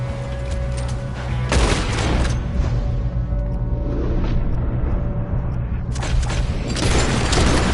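Red Dead Redemption 2 gunfire rattles in dense volleys near a train car, with heavy booming shots, a brief lull, then renewed rapid firing, loud and close throughout.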